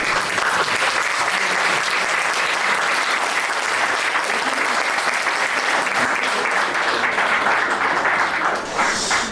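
A church wedding audience applauds to welcome the pastor, producing a dense, loud, continuous roar of many hands clapping that holds steady from start to finish and fades slightly at the very end.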